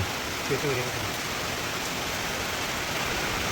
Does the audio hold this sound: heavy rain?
yes